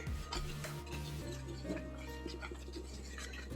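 Flour is stirred into wonton dough in a bowl, with soft scraping and stirring noises over a steady low background hum in a kitchen, faint and close.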